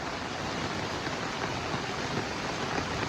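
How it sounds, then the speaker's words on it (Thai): Heavy rain pouring steadily, a dense, even wash of broadband noise with no breaks, fairly close and constant throughout. "บรรยากาศตอนฝนตก"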